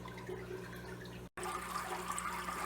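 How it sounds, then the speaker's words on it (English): Thin streams of water pour through plastic net pots in a planted aquarium, a steady close trickle and splash. A brief cut interrupts it midway. "You could also see the streams of water that are pouring through them."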